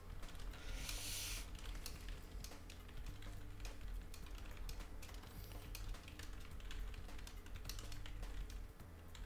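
Soft, quick clicking of keys on a computer keyboard, faint and continuous under a steady low electronic hum and tonal background game sounds.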